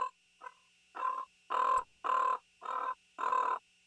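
A person vocally imitates a common raven, giving seven hoarse, croaking caws in a steady, evenly spaced series, loud and close with nothing else around them.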